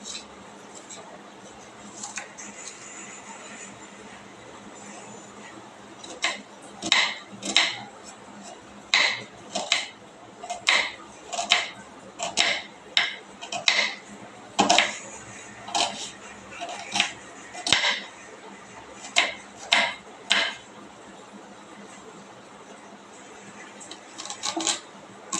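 Onions are finely chopped with a knife on a board for chicken curry: sharp, crisp chops come in uneven bursts after a quiet start, close and fairly loud over low room noise.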